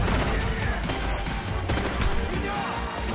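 Gunfire in the video game Ghost Recon: Future Soldier, a dense, continuous clatter of shots and impacts packed into a loud, unbroken wall of game noise.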